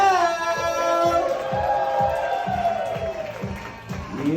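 A comedy club audience at a roast battle cheers and applauds for a performer, with whoops and sustained crowd noise layered over a rhythmic thumping beat from music playing in the room.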